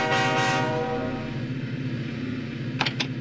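Train sounds from the Lionel Train Town Deluxe video game: a loud steady rumble of rolling wagons with horn-like tones at the start and a couple of sharp metallic clicks near the end.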